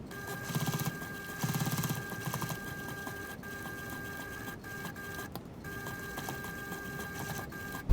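A sewing machine stitches a pocket onto a sling bag in fast, steady whirring runs that pause briefly and then resume, with a faint hum between bursts and no talking.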